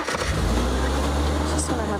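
A safari vehicle's engine pulls forward slowly at sunset, a steady low rumble running throughout, close and fairly loud.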